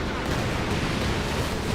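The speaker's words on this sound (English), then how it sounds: "Here comes a Calliope rocket barrage as well" Calliope rocket barrage and artillery fire in the video game Company of Heroes 2, a dense continuous rumble of launches and explosions filling the whole moment, loud and unbroken.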